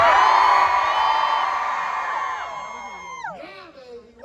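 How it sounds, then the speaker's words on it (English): A large crowd at a Knott's Scary Farm Halloween announcement event screams together in one loud, sustained burst that slowly fades out, followed by scattered shouts and a few voices. "Can we scream loud enough that he hears us?"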